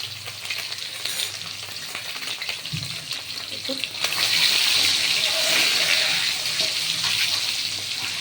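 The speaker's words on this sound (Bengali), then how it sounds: "এইভাবে চারটে সাইড কেটে নিয়ে এটা ভাজা করছি" Eggs scored on four sides frying in a pan, a steady sizzle that swells louder midway and holds as a dense, close hiss, with a faint thump just before.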